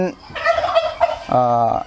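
Turkeys on a farm at Ban Kham Koem gobble loudly and close by, with two or three rapid warbling bursts in quick succession.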